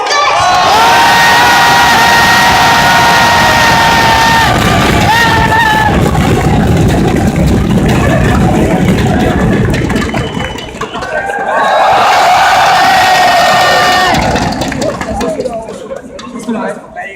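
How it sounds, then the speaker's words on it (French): At a Lyon esports event, a crowd cheers and shouts loudly for the DFG Spontex casters, with voices whooping and chattering close by. The noise dips briefly near the end, then swells again. "vous allez faire un tonnerre d'applaudissements pour DFG Spontex"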